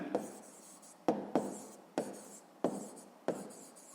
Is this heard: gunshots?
no